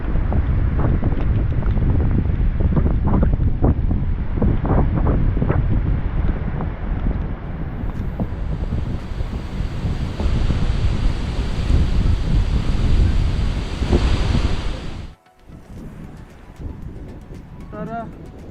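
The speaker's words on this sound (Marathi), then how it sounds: "खूप जोराचा वारा सुटलाय" Strong gusty wind buffets the microphone on Asherigad fort during a monsoon trek in Palghar, a loud continuous roar for about fifteen seconds that drops off abruptly, with voices and laughter mixed in.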